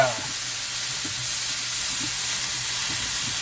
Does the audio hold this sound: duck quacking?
no